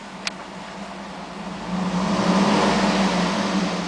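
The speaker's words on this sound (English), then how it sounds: "I'm going to rev the engine" A 2008 Cadillac Escalade engine idles smoothly, then rises into a sustained rev with a deepening, louder hum that holds near the end, recorded close with a brief click early on.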